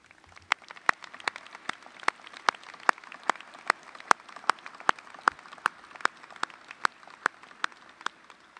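Sparse, evenly spaced claps at a university graduation ceremony, roughly two or three sharp hand claps per second, thin and slightly distant, with no voices.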